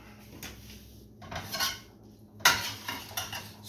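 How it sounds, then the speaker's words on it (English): Pinto beans and tomatoes for a Frito pie being stirred together in a pot, with several scraping, clinking strokes of a utensil against the cookware, close and moderately loud, with no talking. "Stir this all up."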